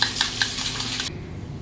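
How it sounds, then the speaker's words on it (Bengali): Yogurt whisked hard in a bowl for Bengali rui fish kalia: quick, rhythmic scraping and clinking strokes at a steady pace for about a second, then the whisking stops, leaving a low room hum. "মাছের কালিয়াতে দই দেবো, তাই একটু দইটা ফাটিয়ে নিচ্ছি ভালো করে।"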